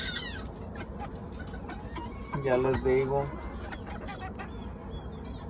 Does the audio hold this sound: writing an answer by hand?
no